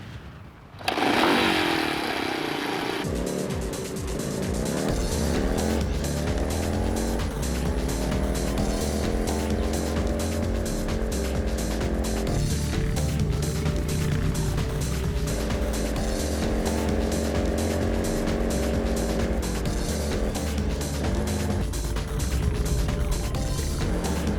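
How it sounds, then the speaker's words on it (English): Quad bikes on a hilltop in Shetland, a steady loud engine drone running throughout with rising and falling revs, starting up after a brief quiet moment. "Okay, so we got these quad bikes."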